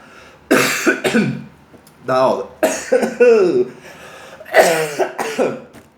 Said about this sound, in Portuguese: Tô tossindo demais.